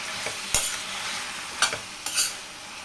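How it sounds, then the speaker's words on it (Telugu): Gongura leaves cooking with tomato, salt and turmeric in a pan are stirred with a few distinct, close scraping clacks over a soft, continuous sizzle. "ఇప్పుడు ఈ గోంగూరను అయితే బాగా మిక్స్ చేసేసుకొని ఉడికిచ్చేద్దాం"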